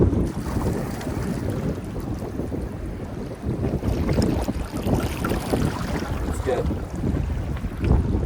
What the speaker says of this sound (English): It's getting super windy.